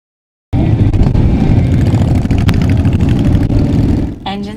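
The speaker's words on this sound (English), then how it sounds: "Engines revved and helmets were secured as hundreds of motorcyclists participated in the Armed Forces Motorcycle Safety Ride here at Fort Bliss" Motorcycle engines rumble loudly and steadily at an Armed Forces Motorcycle Safety Ride at Fort Bliss, with many bikes running at once, then the noise drops near the end.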